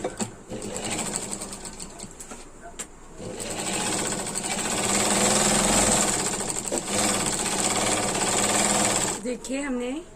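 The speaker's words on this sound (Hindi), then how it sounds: "इसको बैठाने के लिए यहाँ पर हम सिलाई लगा देंगे" A sewing machine stitches a lehenga in a rapid, steady mechanical whir with brief pauses, close and fairly loud, and a voice speaks over it.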